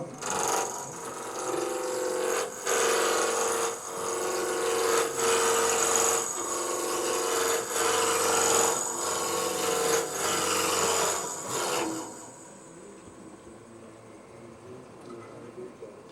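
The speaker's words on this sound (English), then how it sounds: "I'm just using about 1 1/4 inch roughing gouge." Roughing gouge, about 1 1/4 inch, turning wood on a lathe for a three-sided box, giving rhythmic scraping passes in regular pulses for about twelve seconds, close, before fading to a quieter motor hum.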